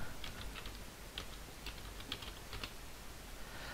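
Quiet, close keystrokes on a computer keyboard as a password is typed, irregular taps arriving in small bursts with short pauses, no voices.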